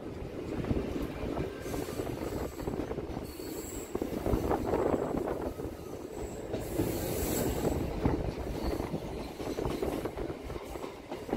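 A Tarakeswar-Goghat local train rolls on the rails after switching from a loop line back onto the main line, with a loud continuous rumble, rattling wheels and occasional squeals throughout.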